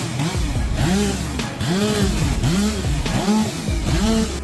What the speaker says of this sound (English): The Dail chainsaw, the tool commonly used in the competition, is equipped with a two-stroke engine and a sharp chain